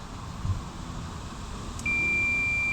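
A multimeter on continuity mode testing a small pot compressor's windings to ground gives a steady, high-pitched electronic beep that starts abruptly partway through and holds unbroken to the end over faint room noise.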